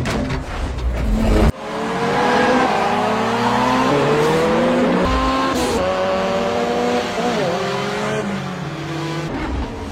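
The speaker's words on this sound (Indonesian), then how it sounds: "langsung meminta Hector selaku wasit untuk langsung memulai balapan" Race cars accelerate hard at the start of a street race in a film scene, a loud, sustained roar of several engines with rising and shifting revs, tires squealing briefly, no talking.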